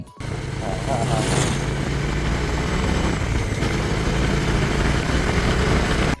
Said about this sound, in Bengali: বাইকটা একটা র সাউন্ড তোমাদের শুনিয়ে দেই